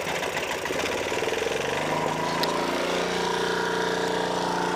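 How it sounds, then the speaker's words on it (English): A small engine on a rig idles steadily to burn the remaining fuel out of its carburetor, a continuous close, loud mid-pitched running hum with faint knocking, settling into an even tone. "We're gonna run the gas out of the carburetor."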